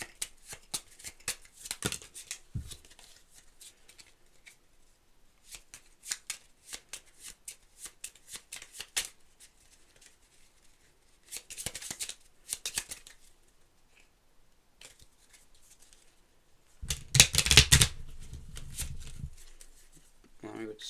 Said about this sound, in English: we'll shuffle the King of Diamonds into the deck